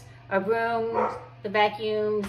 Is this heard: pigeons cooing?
no